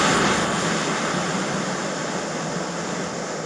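A Jetboil camping stove burner roars steadily at a campsite, a constant loud hissing rush of gas flame close by with no talking.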